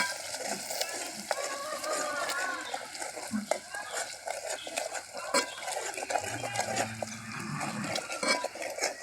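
Herbal oil with turmeric is stirred in a pan as it cooks, giving a steady sizzle with repeated scraping and clinking of the spoon against the vessel, and a voice speaks at times.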